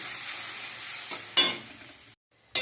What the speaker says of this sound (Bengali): আমি আস্তে আস্তে মশলাটা কষিয়ে নেব